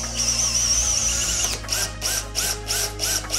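A power drill whines briefly, then a series of short, rhythmic bursts repeat about every half second, close and fairly loud, as it drills dimples into a C8 Corvette body kit panel.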